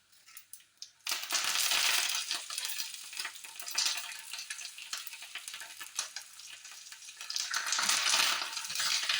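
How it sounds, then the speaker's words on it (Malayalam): Dense crackling and popping of mustard seeds bursting in hot oil over a full flame with curry leaves, for rasam, starting abruptly and continuing in bright, sizzling bursts that swell again near the end. "ഈ കടുക് പൊട്ടതിൻ്റെ ഒക്കെ ഒരു ആ സൗണ്ടൊക്കെ കേൾക്കാനൊരു പ്രത്യേക രസമാണ് എണ്ണയിൽ കടുകിട്ട് കഴിഞ്ഞാൽ"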